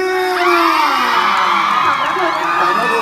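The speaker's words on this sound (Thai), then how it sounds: "ขอเสียงปรบมือ" A crowd at a silk fashion walk cheers and whoops loudly, with high shouts and screams layered over a steady roar of voices that lasts throughout, close and intense.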